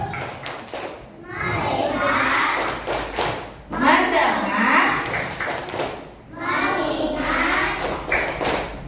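Children in a classroom clap a rhythmic focus clap on cue, a run of sharp hand strikes mixed with their loud chanting voices and a teacher speaking, repeated in three bursts.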